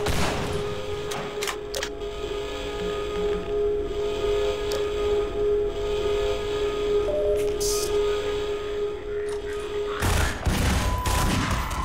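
Gunfire from a weapon in the Half-Life video game, a burst of shots cutting through a steady game soundscape with a sustained tone, growing loud and dense near the end.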